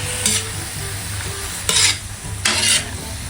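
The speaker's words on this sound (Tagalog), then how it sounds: "Bale, ito po akin lang pong hahaluin." Squid seasoned with fish sauce and liquid seasoning sizzles loudly in a pan, and a spoon sweeps through it in three distinct scraping strokes over a constant frying hiss.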